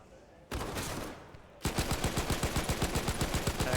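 Rapid automatic gunfire from a Call of Duty: Vanguard match at an epic.LAN grand final, a burst of shots then a steady rhythmic volley of loud, close reports with no talking.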